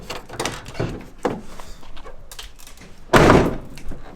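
A series of dull thunks and knocks from a Ford Transit van's rear barn door and its latch being worked, ending in one solid, close closing thud near the end.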